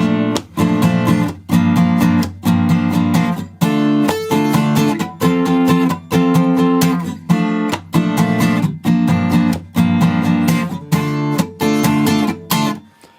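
An acoustic guitar strums rhythmic chords from the second verse of a song, loud and close, in steady repeated strokes with short gaps between bursts.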